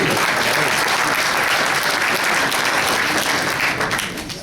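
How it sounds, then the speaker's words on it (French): Loud, dense applause from the audience at an Organo Gold business presentation, sustained for several seconds and tapering slightly at the end, with no talking over it. "Une bonne main d'applaudissement pour vous."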